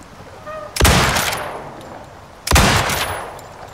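Two loud, sharp rifle shots ring out in the Icarus survival game, spaced about two seconds apart, each with a long echoing tail across open terrain.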